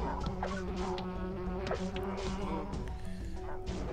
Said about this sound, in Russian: давай сюда улей бросим